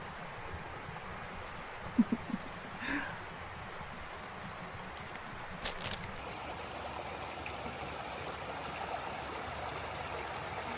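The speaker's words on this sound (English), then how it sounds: "the sound of the creek flowing by" A creek flows steadily in a soft, continuous rushing wash, with a couple of faint knocks and rustles nearby, on a forest trail at Horton Creek near Payson, Arizona.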